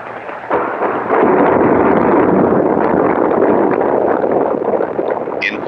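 A Saturn V program rocket engine roars through a static test firing on test stand 1B2. After a brief lower rumble, a loud, dense roar starts abruptly and holds steady for several seconds before a faint high click at the end.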